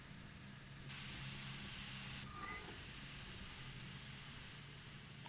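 A steam locomotive in Derail Valley dumps steam, a faint broad hiss that swells abruptly, holds for a second or so, drops back, then lingers softly over a low mechanical rumble.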